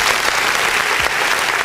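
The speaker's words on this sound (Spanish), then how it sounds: "Aplausos para Ceja." Applause from an audience fills the short moment, a dense steady wash of clapping with no talk over it.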